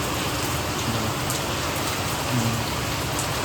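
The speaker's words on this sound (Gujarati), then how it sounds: "વરસાદ સારો પડી રહ્યો છે" Heavy rain pours down in a dense, steady hiss of countless drops, loud and unbroken throughout, with a faint low rumble underneath.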